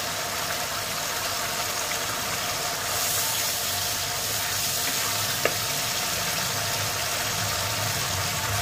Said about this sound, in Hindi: अच्छे से हम भूनेंगे।